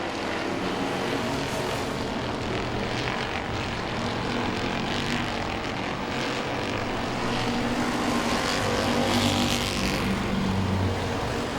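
Heritage Super Streets race cars roar around Langley Speedway, a continuous loud, dense engine drone from start to finish with no clear breaks or talk over it.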